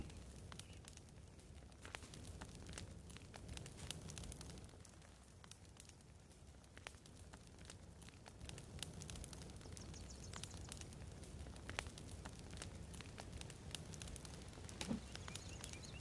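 In the survival video game The Forest, a small campfire crackles quietly with a steady bed of faint pops and snaps and no talk over it. A brief bird chirp is heard near the end.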